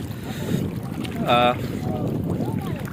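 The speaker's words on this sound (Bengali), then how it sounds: "কুয়াকাটা সমুদ্র সৈকত," Wind blows on Kuakata sea beach in Patuakhali, on the Bay of Bengal, as a low, rumbling buffet against the microphone, with brief voices in the background.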